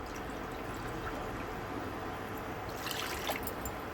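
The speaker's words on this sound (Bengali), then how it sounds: "এই বাটি মেপেই জল দিচ্ছি" Water poured from a measuring bowl into a pot for gulab jamun sugar syrup, a soft, steady pouring trickle that grows a little louder near the end.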